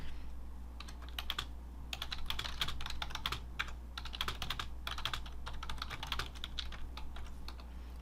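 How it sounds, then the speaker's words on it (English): Chat messages are typed on a computer keyboard in quick, uneven bursts of light key clicks, close and fairly quiet over a low steady hum, with no speech. "and so you can type messages"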